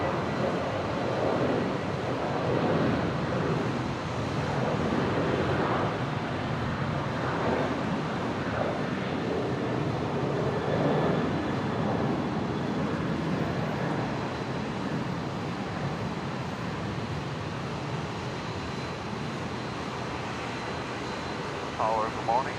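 A Qantas Boeing 737, flight 525 bound for Sydney, takes off from Brisbane airport with a long, steady jet roar under wind noise, while voices talk over it.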